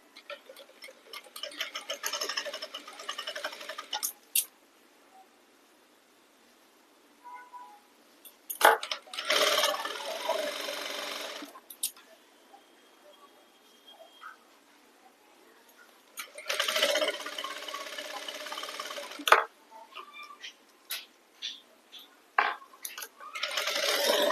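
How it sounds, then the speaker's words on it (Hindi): A sewing machine stitches fabric loops for a blouse, whirring in three steady bursts of several seconds each with quiet pauses between runs. "फिलहाल तो मैं सिलाई मार रही हूँ।"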